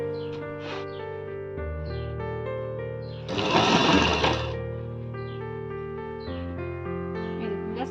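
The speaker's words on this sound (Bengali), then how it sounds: "প্রথমে তো দেখুন আমি মাঝখান থেকে সেলাই দিচ্ছি" A sewing machine stitches a blouse sleeve in one short, buzzing whir of about a second, heard over steady background music.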